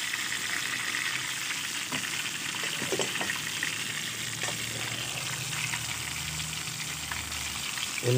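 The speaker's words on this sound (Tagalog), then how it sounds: "tinutustid ko yan para masarap siya kainin" Fish sizzling in oil in a pan: a continuous bubbling, crackling fry at moderate level with scattered pops and a faint liquid trickle, no voices.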